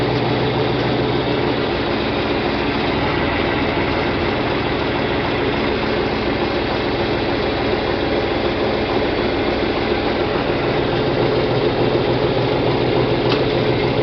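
A John Deere 4020 tractor's engine runs steadily and loudly up close, a continuous low, rumbling drone that holds evenly from start to finish as the tractor is put in gear.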